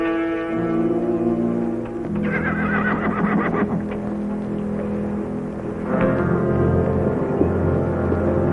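Among sustained low tones, a horse lets out whinnying neighs near the middle and again toward the end, fairly close and clear.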